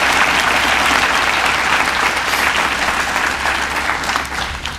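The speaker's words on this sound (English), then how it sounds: "Would you join me in giving all of our special guests a round of applause?" Loud, sustained applause from a large audience at a university inauguration ceremony, dense and continuous clapping that tapers slightly at the very end.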